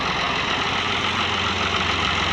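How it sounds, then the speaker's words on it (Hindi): A tractor engine idles after being started in the morning, a loud, steady diesel rumble with a rapid knocking pulse, continuous and close, with no talk over it. "अभी सुबह उठे हैं, ट्रैक्टर स्टार्ट किया है।"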